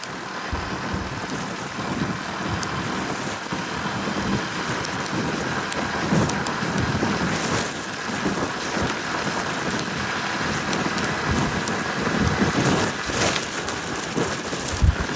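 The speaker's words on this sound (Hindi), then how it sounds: "अबे इधर बारिश तेज हो रही" Heavy rain pours steadily near farm fields, a dense, even hiss that continues throughout with occasional low rumbles that could be thunder, loud and close, with no talking.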